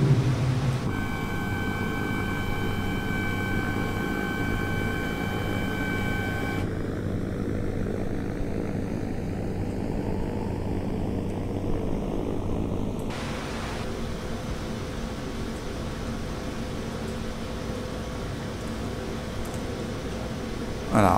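A steady, loud aircraft engine drone with tonal whine from an Eviation Alice electric airliner in Microsoft Flight Simulator; partway through, landing gear extends, the pitch sweeps and texture shifts, then a rougher roar continues to the end.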